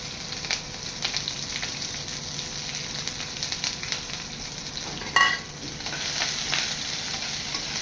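Chili and ginger sizzle with black cumin in hot oil for a homestyle vegetarian vegetable curry, a steady close frying hiss broken by one brief louder spatter burst.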